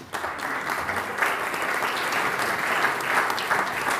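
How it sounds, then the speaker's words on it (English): An audience at a political discussion event on Europe after the elections applauds steadily, a dense, continuous patter of many hands clapping at close range with no voices over it. "Please give an applause at the end."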